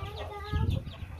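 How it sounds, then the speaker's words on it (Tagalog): Pet chickens and young chicks cluck and peep close by in short, uneven bursts, with a louder cluster of low clucks midway. "yung ating alagang manok"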